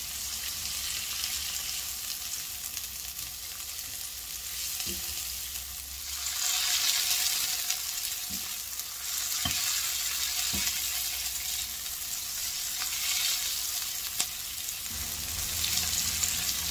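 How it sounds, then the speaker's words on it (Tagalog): Onions sautéing in oil in a pan, a steady sizzling fry with scattered soft clicks and scrapes of stirring, the hiss swelling louder at times, close and continuous with no talking. "Igisa ang sibuyas."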